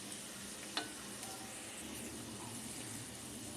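Onion with ginger and garlic frying in a pan for a chicken liver fry, a steady soft sizzle running throughout with one brief clink of a utensil near the start.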